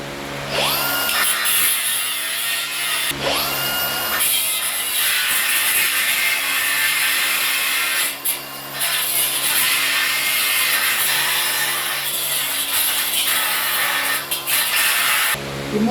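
A cutting disc grinds through a metal part on a DIY motion sim platform: loud, continuous, close-up abrasive screech, with the disc whining up to speed twice near the start and brief dips as it bites into the metal.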